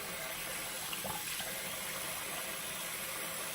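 Tap water running over a freshly done tattoo being washed at a sink, a steady soft rush of flowing water, fairly quiet and continuous, with no talking.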